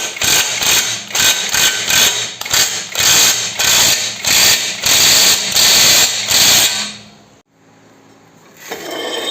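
A pneumatic impact gun rattles in repeated rapid bursts while tightening a nut on a SEAT Ibiza 6L suspension, loud and close, with short pauses between bursts before falling quiet, then a faint resumption.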